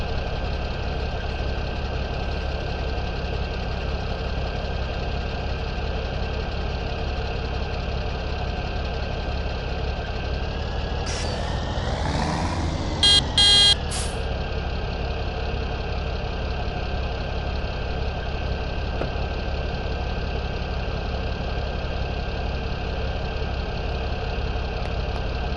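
A tractor engine from Farming Simulator 17 idles steadily at a close, constant drone, with a brief mechanical shift in pitch midway and no talking.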